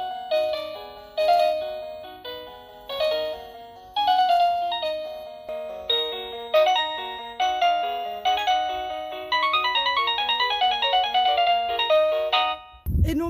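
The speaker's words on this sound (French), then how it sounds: "tu peux avoir une sonnette" Wireless doorbell receiver chiming a melodic ringtone tune, with repeated bright ding-dong phrases playing in a steady rhythm at close range, ending with a brief thump.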